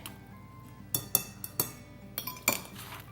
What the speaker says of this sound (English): Now I'm just going to stir this all together.